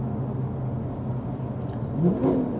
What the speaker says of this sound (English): on the downshifts, give it a little blip of the accelerator, and it just sounds fantastic